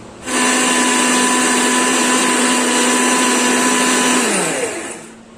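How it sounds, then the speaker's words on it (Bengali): A kitchen mixer grinder blends chopped ginger and four green chilies into a paste, starting abruptly into a loud, steady whirring roar that holds for about four seconds before winding down. "এর মধ্যে কিছুটা আদা কুচি আর 4টে কাঁচা লঙ্কা দিয়ে পেস্ট করে নেব।"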